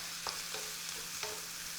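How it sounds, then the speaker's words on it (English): Roughly chopped onions and vegetables, intended for puree, sizzling softly in a pan while being stirred, with a few light scrapes of the spoon over a low, steady frying hiss, quiet and close. "Just give them a stir."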